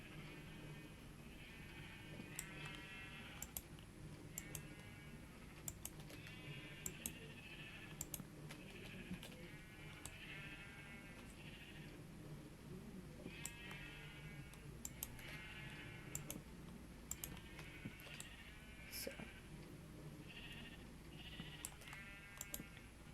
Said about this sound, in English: it's attracting the sheep to me